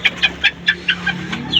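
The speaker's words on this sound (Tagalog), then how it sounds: "Pumuputak yung mga sisiw natin" Young chicks peep in a small backyard breeding pen, a run of about eight short, evenly spaced high chirps in quick succession, close and clear over a low background hum.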